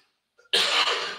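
A single loud, close cough bursts out sharply and trails off over about half a second, from someone at a board game table during a session of Les Contrées de l'Horreur, with silence before it.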